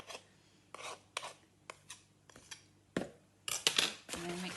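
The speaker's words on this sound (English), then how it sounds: "Scrape all the mixture down from the side of the bowl so everything gets incorporated." A spoon scrapes cookie dough down the side of a mixing bowl in short rasping strokes, a series of separate close scrapes and knocks with brief pauses between them.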